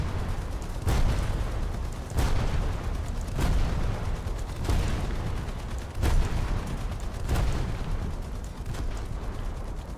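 Gunfire and explosions in the War Thunder game come as heavy booming blasts at regular intervals of roughly a second and a half over a constant rumbling battle backdrop, loud and alone.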